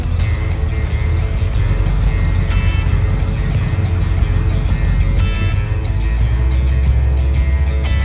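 A squarebody pickup truck out on a test drive after an alternator charging repair, its engine and road noise forming a steady, loud, continuous rumble close by throughout, with no talking.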